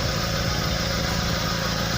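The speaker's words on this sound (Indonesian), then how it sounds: "suaranya itu tidak lembut dan aneh ya, ada ngegorok-ngegoroknya gitu, seperti ada angin keluar dari knalpot" Pickup truck engine idling with a leaking exhaust pipe, making a steady, close, rough rattling drone with a gurgling, snoring edge and no talk over it.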